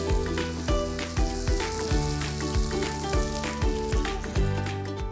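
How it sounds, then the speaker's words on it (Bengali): Cashews, almonds, carrot and rice for Kashmiri pulao fry loudly in a pan, a dense continuous sizzle broken by an even, repeated scrape of stirring up close, with no talk. "অন্য সবজিগুলো আমরা পরে অ্যাড করে দেব এবং চাল দিয়ে দিচ্ছি।"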